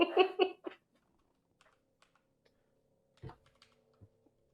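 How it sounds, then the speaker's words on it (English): Slow typing on a computer keyboard: sparse, faint, separate key taps with long quiet gaps between them, after a brief voice at the start. "I am typing very slowly because I want to get it right."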